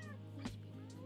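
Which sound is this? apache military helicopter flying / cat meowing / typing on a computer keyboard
cat meowing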